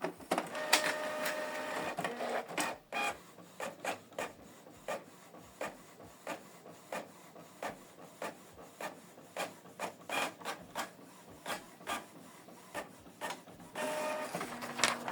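Canon MG3650 inkjet printer printing a document, a quick run of rhythmic clicks and scraping feed strokes repeating nearly every half second, close and fairly quiet, with no talk.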